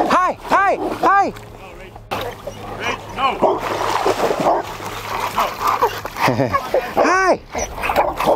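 A dog at a camping ground barks repeatedly in loud, close bursts. Splashing and people talking run between the barks, and another run of barks sounds near the end.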